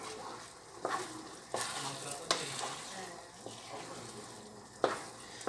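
Butter being stirred into a risotto in a pan, soft sizzling under repeated scraping strokes of a spoon against the pan, with several sharp clacks standing out over the low bubbling.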